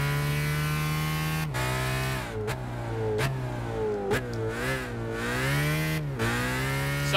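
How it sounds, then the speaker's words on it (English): A race car engine in Gran Turismo 5 revs hard and high, pitch climbing and dropping repeatedly with sharp gear-shift breaks, loud and continuous with no talking. "Oh, listen to that engine."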